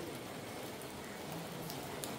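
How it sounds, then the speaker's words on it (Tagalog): Steady rain pattering continuously on surfaces at a campsite, a dense even hiss with no voices present. "May ulan."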